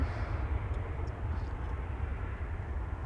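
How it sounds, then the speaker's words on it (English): A Saudi airliner arriving from Jeddah on the glide slope to Schiphol's center runway, a steady low engine rumble and broad roar that holds even and fairly distant throughout, with no talk over it. "Saudi flight 933 on the glide slope to the center runway, arriving from Jeddah."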